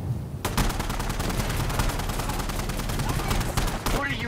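Dense, sustained gunfire in a shooter video game, rapid overlapping shots forming a loud continuous fusillade for several seconds, with a brief gap near the end as shots resume.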